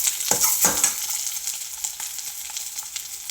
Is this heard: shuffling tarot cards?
no